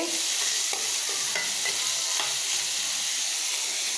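Water lily stems fry with a little turmeric in a hot pan, hissing in a loud, even sizzle with faint stirring clicks and scrapes scattered through it.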